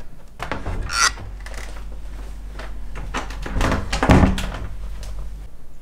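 A room door in a house opens with wooden creaks, rubbing and a couple of dull thunks, close by and moderately loud, with no speech.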